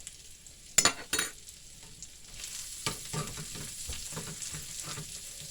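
Potatoes and onions fry in bacon grease, a soft steady sizzle with a few sharp stirring scrapes and clinks near the start, no voices.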